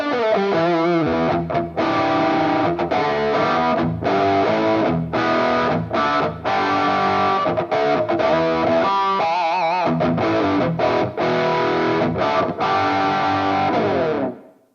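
A loud distorted electric guitar plays chords and riffs continuously through a stereo reverb pedal set to a low mix, reverb washing around the notes, brief gaps between phrases, no voices.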